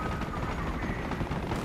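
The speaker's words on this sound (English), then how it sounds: "I got a transport chopper!" A transport helicopter in the video game Battlefield Hardline roars with a steady, dense rotor and engine drone that fills the whole stretch without letup.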